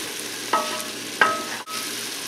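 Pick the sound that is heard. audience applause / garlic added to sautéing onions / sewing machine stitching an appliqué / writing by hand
garlic added to sautéing onions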